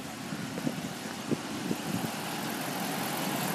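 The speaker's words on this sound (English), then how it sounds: "engine's running very good" A 2014 Dodge Ram 1500 Laramie pickup engine idles steadily and smoothly, a low, even rumble close by with a few faint knocks early on and no talk.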